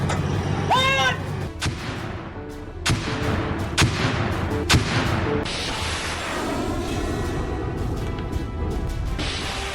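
Indian artillery gun firing at a weapons testing ground: a string of heavy, sharp blasts with rolling rumble in between, loud and close, ending in a long roaring wash of sound.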